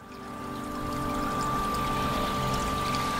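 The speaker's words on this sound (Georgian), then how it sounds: "ერთი ჩანჩქერი, მეორე ჩანჩქერი, მესამე ჩანჩქერი" A waterfall in Martvili canyon roars as a steady, loud rushing pour, heard continuously and alone with a faint tonal hum underneath.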